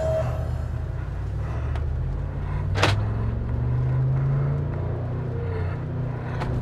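A Mercedes-AMG G63 in drive mode gives a steady low engine rumble as it pulls away, with a rising drone and a brief clunk partway through, heard alone without talk.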